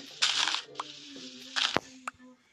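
Small pieces of wood snap in quick bursts, a couple of crunchy breaks followed by a sharp crack and a smaller click, close and fairly quiet.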